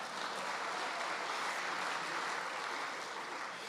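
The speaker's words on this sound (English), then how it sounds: "You ought to give yourselves a round of applause." A distant audience at a college lecture event gives a round of applause, a faint, steady wash of many hands with no talk over it.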